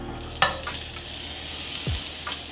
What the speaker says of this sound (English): Now that the surface is hot, we're gonna go ahead and get some garlic butter.